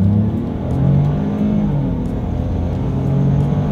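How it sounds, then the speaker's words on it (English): A 2020 Ford Escape with a turbocharged three-cylinder engine accelerates, giving a steady low engine drone from inside the cabin that rises slightly in pitch, loud and continuous with no talk over it. "let's see how quickly we can get this new 2020 Ford Escape here up to speed."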